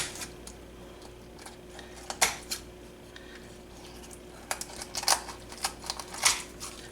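Kitchen shears cutting along a raw chicken's backbone for spatchcocking, heard as close, sharp crunching snips in irregular clusters, with quiet pauses between the cuts.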